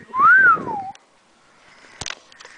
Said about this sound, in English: Whistle at him.